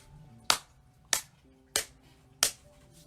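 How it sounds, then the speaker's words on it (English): Four sharp, evenly spaced hand claps, each a crisp isolated crack with a short decay, heard close and alone against a quiet background at the end of a breathing exercise. "We clap our hands."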